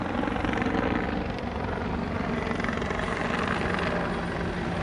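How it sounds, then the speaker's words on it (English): A helicopter flies over a floodlit soccer pitch during an evening amateur match, its dense rotor and engine roar loud and steady throughout with no break. "We've got the Game in Frame helicopter flying over"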